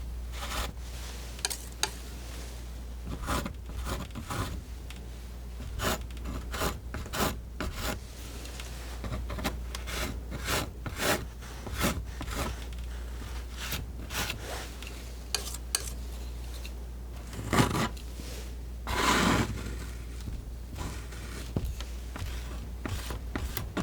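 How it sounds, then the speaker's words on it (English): A palette knife scrubs paint onto canvas while a pug portrait is being painted, making soft, quiet scraping and rubbing strokes in irregular bursts with brief pauses between them, close to the microphone and with no talking. "Kind of scrubbing this in to fill in the canvas a little bit more."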